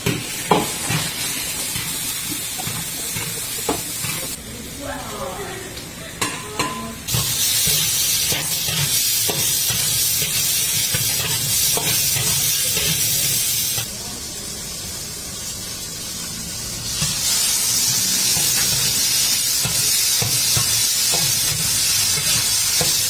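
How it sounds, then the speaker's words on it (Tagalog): Small chicken pieces frying in a hot pot base, a steady broadband sizzle and hiss with occasional stirring scrapes, swelling louder in bursts as the meat is moved around the pan. "you have to fry the chicken enough time so that the water will go out from the meat"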